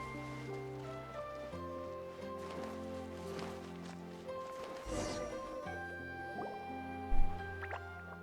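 Water droplets drip softly in Genshin Impact near a cave, light wet plinks scattered over a steady bed of game music, with one sharper splash late on.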